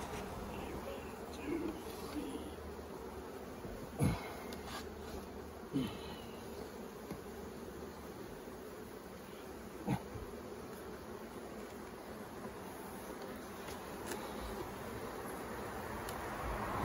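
Honeybees hum in a dense, continuous buzz around an open hive during an inspection of an emergency split, with occasional soft knocks and clicks from handling the boxes and frames.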